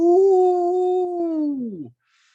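A man imitates a wolf howl with his voice, one long sustained near tone that holds steady then slides down and cuts off, followed by silence.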